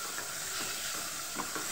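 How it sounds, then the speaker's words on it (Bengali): Capsicum of three kinds and carrot frying in a pan, a steady soft sizzle with faint stirring scrapes, close and continuous throughout without any talk. "এটাকে আমি আবার ভালোভাবে ভেজে নেব।"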